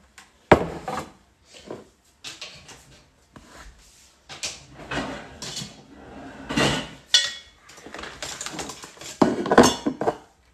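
Metal cooking pot and utensils clank and knock repeatedly in a kitchen, irregular loud bangs and scrapes close by, with no talking.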